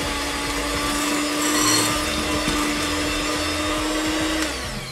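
Electric hand mixer whirring steadily through pound cake batter with lemon zest, a loud even motor drone with slight wavering in pitch, no voices over it.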